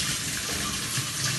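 Water running steadily from a faucet, a continuous close hiss and splash with no pauses, heard alone.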